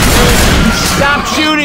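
Gunfire in Left 4 Dead 2, a loud, dense burst of booming shots that fills the whole moment with heavy blasts.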